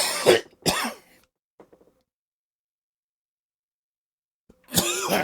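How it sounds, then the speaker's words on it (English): Two harsh coughs from one person close up, a brief pause between them, then a faint throat noise and silence before another cough starts at the end. "Excuse me for the coughing."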